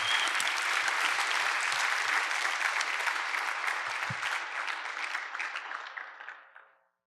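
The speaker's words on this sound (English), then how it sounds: "Give him another round of applause." An audience at a sales conference applauds with dense, sustained clapping that holds steady for several seconds, then thins out and fades to silence, with a few faint voices underneath.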